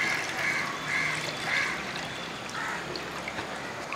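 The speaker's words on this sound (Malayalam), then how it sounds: "അപ്പം ആ മീൻ ആവശ്യമുള്ള പുളി ഇനിയും ഒരു കപ്പ് വെള്ളം കൂടെ ഞാൻ ഒഴിച്ചിട്ടാണ്." Water pouring into a clay pot while fish curry with tamarind is being prepared, a steady trickling and splashing pour heard fairly close, with no talk.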